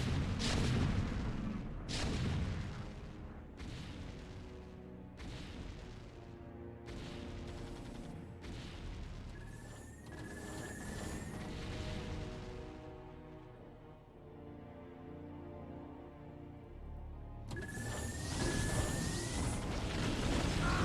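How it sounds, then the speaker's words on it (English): Siege tank artillery in the StarCraft video game: a series of heavy booming shots spaced a couple of seconds apart, each with a long rumbling tail, over a dense continuous battle din, no voices heard. "Oh, with siege tanks on the low ground."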